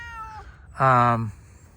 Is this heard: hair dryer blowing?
no